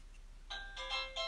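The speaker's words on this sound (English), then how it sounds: "My doorbell." A home doorbell rings a short chime after a brief quiet lead-in, faint and distant, with two or three tonal notes and no voices.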